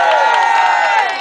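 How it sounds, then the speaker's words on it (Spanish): A live audience cheers and applauds in a steady, dense wash of crowd noise with shouts and whoops, loud and continuous throughout a short burst. "Fuerte aplauso"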